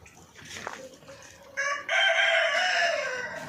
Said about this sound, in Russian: О, Диоген раскукарекался как